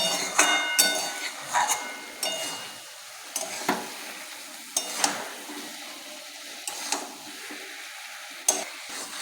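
Leafy greens with a little water left cook down in a pan, a bubbling simmer broken by repeated loud scrapes and knocks of a spoon stirring against the metal.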